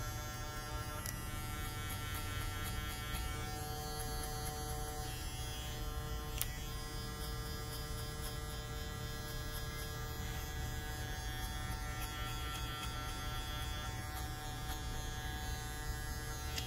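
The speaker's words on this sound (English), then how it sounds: "It's a little heavier than magic, but otherwise, a really nice clipper." An electric hair clipper hums steadily and loudly throughout a barbershop haircut, a continuous motor buzz with no talk over it.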